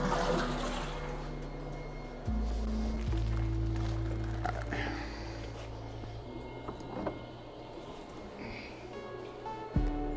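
Strawberry fruit pours in a steady, rushing wash of liquid into soured beer during brewing, with a few soft knocks and shifts partway through.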